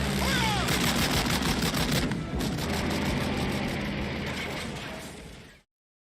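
Rapid bursts of 2 cm Flak 38 anti-aircraft gun fire hammer out close and loud in a fast rhythmic stream for several seconds, briefly pausing near two seconds before the shots resume and then cut off abruptly.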